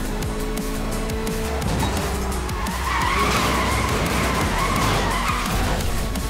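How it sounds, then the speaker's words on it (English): An Alfa Romeo 4C drifts in NFS Most Wanted (2012), its tires squealing and skidding loudly over a revving engine for several seconds, with the screech swelling midway. "Gotta do a little more drifting to get it."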